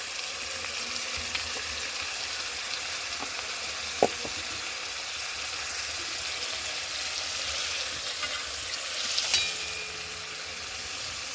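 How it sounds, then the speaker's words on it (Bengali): Chili paste, ginger and ground cumin, turmeric and chili powder sauté in hot oil for a climbing perch curry, giving a steady soft sizzle throughout with a few faint stirring ticks and no talk. "ভালো করে একটু কষাবো।"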